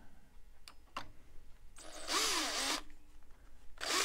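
Cordless power drill fitted with an Allen hex bit driving long screws into the Shelix cutter head of a DeWalt DW735 planer: short clicks, then a loud whirring drill burst of about a second, a pause and another brief burst at the end.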